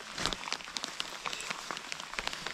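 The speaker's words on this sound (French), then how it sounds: "mais là ça pleut bien" Heavy rain falling outdoors during a long-distance trail outing, a steady dense patter of drops with sharper individual hits scattered throughout, fairly close but soft, with no talking.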